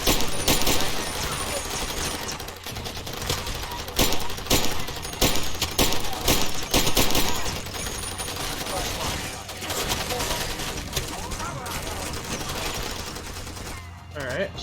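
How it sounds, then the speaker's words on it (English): Pistol and assault rifle gunfire in the video game Far Cry 2, a dense, loud exchange of rapid shots and bursts mixed with game effects, continuing steadily throughout. "Pistol versus assault rifles. Pistol is winning."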